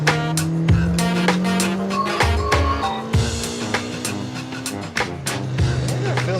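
A JDM sports car with a lightweight flywheel driven hard, the engine revving up and down through gear changes with tire squeal and sharp mechanical clicks, loud and close with no talk.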